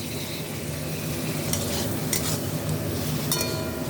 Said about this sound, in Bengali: এবার আমি মাশরুমগুলো দিয়ে দিলাম